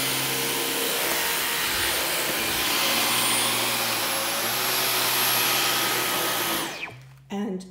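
A Dyson V15 Detect cordless vacuum cleaner runs on rugs with a loud, steady high-pitched whirring roar that cuts off near the end, followed by a brief clunk.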